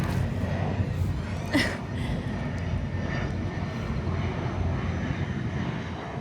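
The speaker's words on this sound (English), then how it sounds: "Sorry about the loud ass airplane." A broad, steady engine roar from an airplane passing overhead fills the whole stretch, with faint voices briefly under it.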